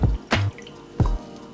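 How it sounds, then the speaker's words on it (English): Coconut water drains from a freshly cracked coconut during coconut bread prep, coming as two short splashy gushes about half a second apart, close and fairly loud, with no talking. "Once it's cracked, drain the coconut water and set that aside."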